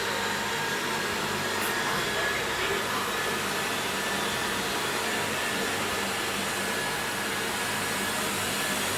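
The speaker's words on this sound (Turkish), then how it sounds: "Süpürgeyi çalıştır." A smart robot vacuum cleaner starts up on a voice command and runs with a steady, even whir and broadband hiss that holds constant throughout, close by and with no talk over it.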